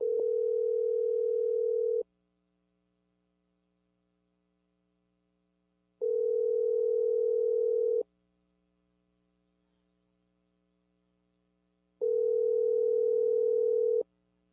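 A telephone tone plays while a call is placed, sounding as three steady two-second bursts separated by long silent gaps, clear and alone with a faint underlying hum.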